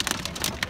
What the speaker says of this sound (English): And now it starts to get a little bit of hail